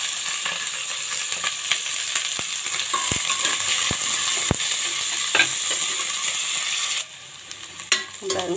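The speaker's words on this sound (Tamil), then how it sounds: "இப்போ நம்ம வெங்காயம் போட்டுடலாம் கொஞ்சமாக கருவேப்பிலை எடுத்து கழுவிட்டு கிள்ளி வச்சுருக்கேன் அதையும் போட்டுடலாம்" Sliced onions and curry leaves frying in oil in a pan for mutton curry, a loud steady sizzle punctuated by sharp spatula taps against the pan, dropping quieter near the end before a few crackles return.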